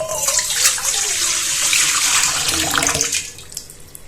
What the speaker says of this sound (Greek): Ξεκινάμε λοιπόν με ένα μεγάλο σκεύος, στο οποίο θα βάλουμε νερό 500 γραμμάρια.